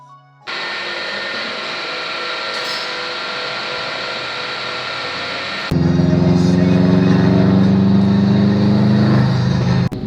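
Exhaust of a Subaru WRX after a visit to an exhaust shop: a steady engine drone that jumps to a louder, deeper rumble partway through and holds there to the end, close and with no talk.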